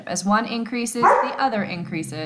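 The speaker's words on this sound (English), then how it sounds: "I apologize for my dog." A dog barks and yips in the background of a room while a person lectures over it. The short barks mingle with continuous speech.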